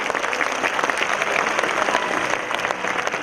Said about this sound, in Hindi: एक बार जोरदार तालियां हाथ ऊपर करके उनके लिए बजाइए।